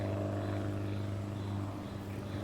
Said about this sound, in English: But then I heard the sound of an aircraft.